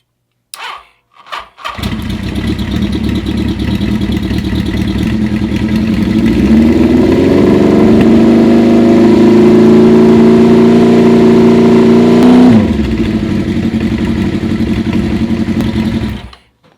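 A bobber motorcycle with a weak battery at about 12.16 volts cranks over sluggishly: a loud, steady, labored starter drone runs for most of the clip, rising in pitch midway, then dropping away as it stops. No one talks.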